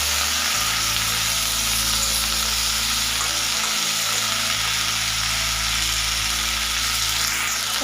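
Okra and tomato fry in a pan with green chilli and tempering for Odia bhendi bhaja, a constant close sizzle with scraping stirs over a low steady hum.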